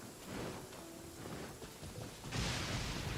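Steady rain in a video game, a soft hiss of falling water with a low rumble of thunder swelling near the end, fairly quiet overall.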